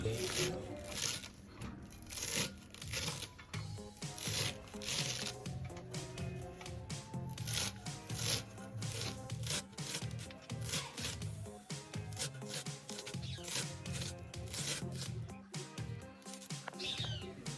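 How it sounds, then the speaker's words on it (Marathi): Fresh coriander leaves being finely chopped with a knife on a board: rapid, steady crisp taps with rustling leaves, close and fairly quiet, under a voice talking. "कोथिंबीर बारीक चिरून घ्यायची"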